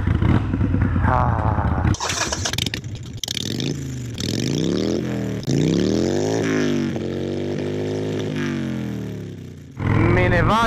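Harley-Davidson Sportster 883 Iron engine running loud and close, its pitch rising and falling through several revs, with a brief spoken exclamation near the start.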